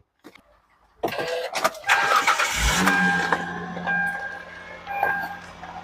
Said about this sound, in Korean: YF 소나타 엔진에서 소리가 납니다